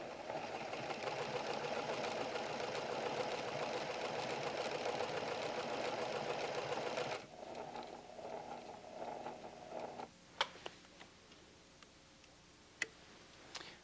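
A PFAFF creative 7550 sewing machine runs steadily for several seconds, a fast dense mechanical whir, then stops, followed by a few sharp clicks and taps in quiet.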